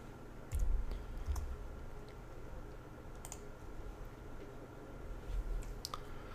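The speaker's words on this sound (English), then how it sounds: "I'm going to hit the number 3 and hit enter on my keyboard" A few separate keystrokes on a computer keyboard click nearby, sparse and irregular, with a couple of firmer presses and no voices.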